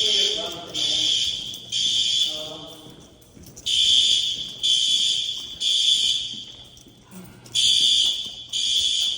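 A school fire alarm sounds in synchronized, repeating horn blasts, each about a second long, in a steady on-off pattern. The alarm is loud and fills the hallway, and a few faint voices speak between the blasts.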